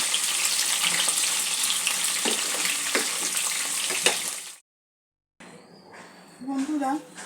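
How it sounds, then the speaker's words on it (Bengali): Pieces of bhetki fish fry in oil and are turned in the pan, giving a loud, steady sizzle for several seconds. The sizzle then cuts off into a quieter stretch where a voice briefly comes in. "এভাবে উল্টে পাল্টে ভালো করে মাছটা ভেজে নেব।"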